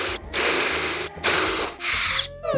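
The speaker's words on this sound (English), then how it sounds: "So I need to drill this one through too." A power drill bores through a workpiece in a woodworking shop in three bursts, each a steady broadband whine with short pauses between as the drill stops and restarts, the last burst ending with the motor winding down.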